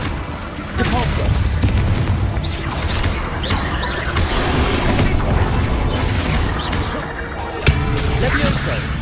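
Magical spell effects in Hogwarts Legacy, a Depulso force-push among other casts, giving a dense, continuous wash of whooshes, blasts and crashes with a voice shouting incantations throughout.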